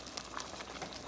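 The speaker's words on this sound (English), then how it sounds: "Wow, it is boiling up like crazy." A pot of coconut milk dish boiling hard on the stove, a steady dense bubbling and hissing wash heard up close without speech.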